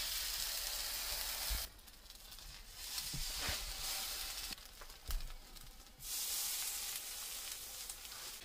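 Keto French toast frying in a pan, a steady loud sizzle that dips briefly as the bread is moved, with a few soft clicks of a utensil, close and without talk.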